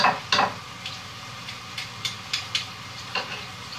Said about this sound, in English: And we're going to stir it all up.